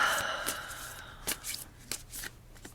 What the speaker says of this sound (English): So let's just give the cards a shuffle here.